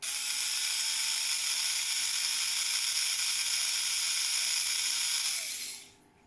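A small electric motor in a vintage Tamiya King Tiger tank gearbox whirs with a steady high whine for several seconds, then spins down and stops near the end, close and alone.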